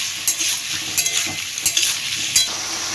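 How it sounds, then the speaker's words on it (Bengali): Boiled potato and papaya pieces are stirred into hot spices in a pan for a Bengali vegetarian curry, a steady close sizzle broken by repeated scraping, clattering stirring strokes. "সেটা মশলার মধ্যে দিয়ে দিলাম,"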